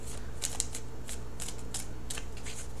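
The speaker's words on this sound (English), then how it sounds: "Okay, so shuffling the cards." A deck of tarot cards being shuffled, with soft riffling bursts repeating over a low steady hum, fairly quiet and close.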